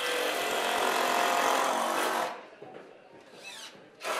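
Power drill driving screws into a wooden fence top rail, a loud continuous whine for about two seconds that then stops, followed by quieter handling noises and a brief second burst.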